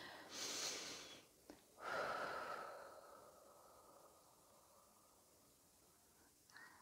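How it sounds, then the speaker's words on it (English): A slow, deep breath pushed out through the mouth, soft and airy, with a fainter follow-up breath fading into quiet room tone. "just exhale out through your mouth with a nice,"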